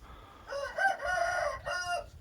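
A single Aseel breeding rooster crows nearby, a loud drawn-out cock-a-doodle-doo rising and falling over about two seconds.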